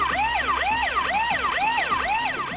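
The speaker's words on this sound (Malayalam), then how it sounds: "അലാം അടിക്കും." A motorcycle anti-theft alarm sounds loudly and alone, a continuous electronic wail that sweeps up and down about twice per second without pause.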